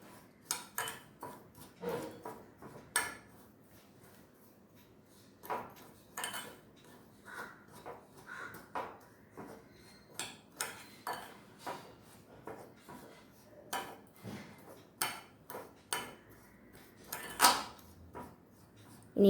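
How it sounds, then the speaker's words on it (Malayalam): A spoon clinks and scrapes repeatedly against a bowl while jelly powder is mixed into water, giving a steady series of close, sharp taps with no talking. "ഇത് നമുക്ക് നന്നായിട്ടൊന്ന് മിക്സ് ചെയ്ത് ഇതിൻ്റെ കട്ടയൊക്കെ മാറ്റി"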